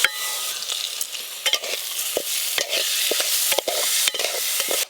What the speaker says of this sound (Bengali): ঘি দিয়ে ভালো করে চালগুলো ভাজো।